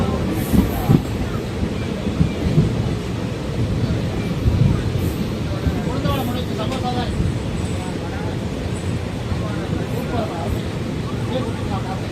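Rumbling wheels and a low clatter come from inside the Madurai–Coimbatore passenger express train as it runs, with voices talking nearby throughout.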